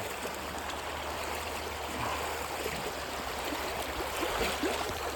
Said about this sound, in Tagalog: Ganda ng agos, eh.